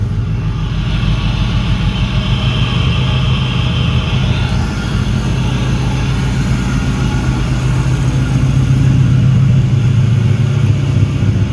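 A US-spec Honda Integra LS/GS engine runs steadily at idle with a low, even rumble and a faint whine, holding constant and close by throughout.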